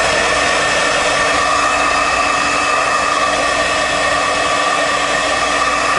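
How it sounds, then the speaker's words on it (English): A blow dryer running on hot to heat red adhesive tape, a loud, steady, close whooshing roar that holds unbroken throughout. "I'm just gonna turn the blow dryer on hot"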